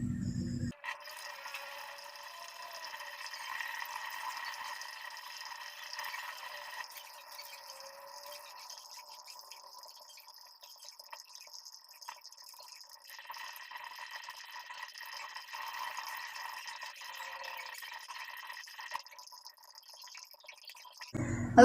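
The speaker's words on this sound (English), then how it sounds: "don't forget to perform medical hand washing" Tap water runs steadily for medical hand washing, a soft continuous splash with faint dripping, moderately close and fairly quiet, alone with no talk.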